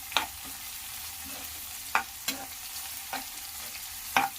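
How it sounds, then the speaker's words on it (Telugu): Semolina upma with vegetables stirred and fried in a pan, with a low steady sizzle and a few sharp scraping clicks of the spoon at irregular intervals, close up and alone. "ఇలా ఫ్రై చేస్తూనే ఉండాలి కంటిన్యూస్గా"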